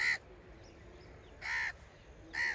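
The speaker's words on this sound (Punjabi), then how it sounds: "ਤੇ ਕਾਂ ਕੁਛ ਕਹਿ ਰਿਹਾ ਆ" A crow caws three times, loud, harsh and fairly close, each call brief and spaced about a second apart over a quiet outdoor background at a sugarcane field.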